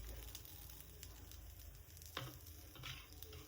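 Potatoes and onions frying in oil in a pan, a steady soft sizzle running throughout with a faint stir or clatter near the middle, no voices.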